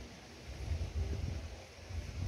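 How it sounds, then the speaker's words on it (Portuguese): Wind blowing across a fishing pond, a low rumbling gusty buffeting against the microphone, rising and falling in uneven surges throughout. "mas tá ventando bastante"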